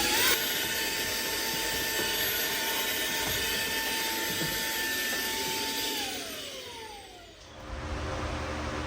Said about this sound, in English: So suck all these shavings out of the way.